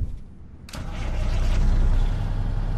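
A Caterpillar diesel in a Kenworth W900 in American Truck Simulator cranks over after a short quiet gap, then settles into a loud, steady low rumble that holds to the end.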